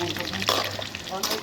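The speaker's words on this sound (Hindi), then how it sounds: "मोमोज़ की फ्राई हो रही है" Homemade momo dumplings fry in hot oil with a continuous bubbling sizzle, close and steady, while a voice talks over it.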